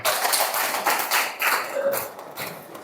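A classroom of students claps for a group of classmates, a dense burst of hand claps spread across the whole moment, fairly close, with a few louder taps and a faint voice now and then.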